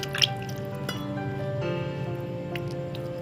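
Raw chicken is washed by hand in a vessel of water, giving close, wet sloshing and dripping with small splashes and squelches over a steady background hum.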